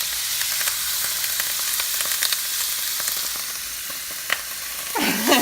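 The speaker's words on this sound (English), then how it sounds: "This pan has been hot. So you want to ease that meat on in." Frozen 80-20 ground beef sizzles in a hot pan with a loud, continuous hiss and scattered pops, and a sharper burst of crackling comes near the end.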